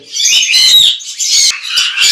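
Red factor sun conures at a Tongi bird market give harsh, piercing squawks in rapid close bursts, loud and continuous with no talking.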